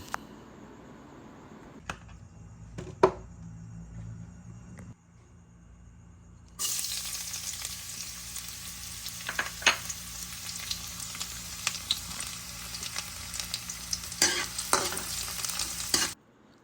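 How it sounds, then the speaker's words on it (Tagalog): Garlic and onion sautéing in oil in a clay pot: a few quiet knocks and stirs, then a sudden loud sizzle that keeps crackling steadily under repeated stirring strokes until it stops near the end. "Maglalagay tayo ng mantika doon sa palayok. And then, igigisa natin ang sibuyas at saka bawang."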